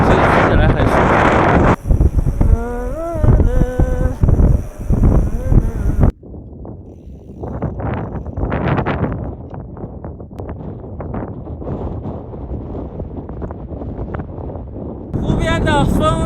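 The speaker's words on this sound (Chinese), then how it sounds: "湖边的风很大很大，" Strong wind buffeting the microphone by a high-altitude lake at about 5000 metres, with loud rushing gusts that drop into a lower steady roar, close and unbroken, and sounds like talk or music in places.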